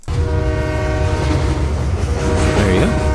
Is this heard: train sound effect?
yes